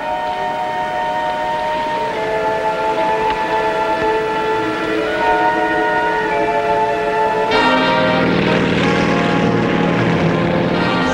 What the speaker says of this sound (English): At noon, the first carrier-based plane comes in for a landing.